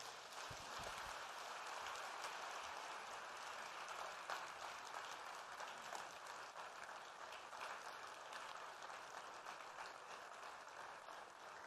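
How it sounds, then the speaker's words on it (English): An audience applauding in a large hall at the African Development Bank annual meeting in Nairobi, dense sustained clapping from many hands, steady and even throughout. "let's give one more big round of applause to the President"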